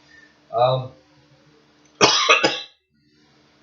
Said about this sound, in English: Still my cold, so I might be coughing a little bit